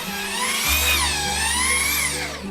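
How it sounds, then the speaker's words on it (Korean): Long 16 mm drill boring out the inside of a daegeum, a traditional Korean bamboo flute, giving a close, steady whine with a shifting, wavering pitch as the bit moves back and forth. "(16mm) 두께의 긴 드릴을 장착합니다."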